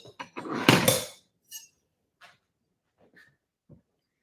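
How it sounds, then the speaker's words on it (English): A dog makes a loud burst of whining and scratching close by as it tries to get in, followed by a few faint, scattered clicks and whimpers in a quiet room. "our dog wants in"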